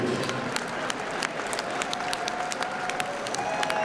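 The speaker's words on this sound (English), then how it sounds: "let's have a big round of applause, please, for both of the fighters" Audience applause for both fighters in an MMA cage at a BTC 9 Rampage bout, steady dense clapping from the crowd filling the arena with scattered louder claps throughout, no talk over it.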